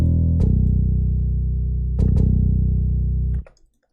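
Thick layered bass in an FL Studio beat, distorted and heavy, holding long low notes with a few re-attacks before cutting off abruptly near the end; loud and alone with no voices.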